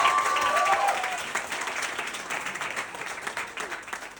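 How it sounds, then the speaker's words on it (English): An audience applauds a fundraiser at an event, a full, continuous patter of clapping that starts loud and eases slightly while staying dense, with a faint whistle early on. "Let's give her a round of applause."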